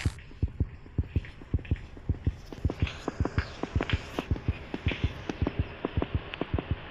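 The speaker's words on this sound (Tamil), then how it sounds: "கேட்குதா ஹார்ட் பீட் சவுண்டு?" Heartbeat sound effect from the horror video game Granny, steady paired thumps repeating about three times a second, close and prominent over a faint low hum.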